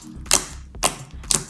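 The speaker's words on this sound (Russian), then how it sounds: "Очень клево кликает, прям безумно-безумно классно." Three short bursts of crackly clicks come from slime being squeezed and played with, close to the listener and separated by brief pauses.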